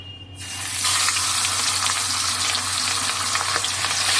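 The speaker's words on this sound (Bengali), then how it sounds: "মাছগুলো এক এক করে দিয়ে দেবো। তেল গরম হয়ে গেছে।" Pencil-bata fish dropped into hot oil, bursting into a loud, dense sizzle that swells quickly and holds steady and close throughout.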